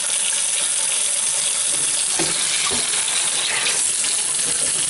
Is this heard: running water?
yes